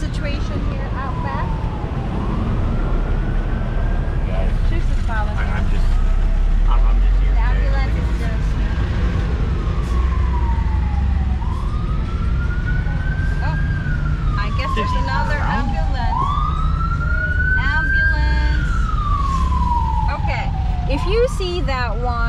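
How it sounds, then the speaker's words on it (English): Ambulance siren on a road in the Philippines, a wailing tone sweeping up and down repeatedly over about twenty seconds amid steady traffic noise, fairly close and prominent. "That's our ambulance here in the Philippines."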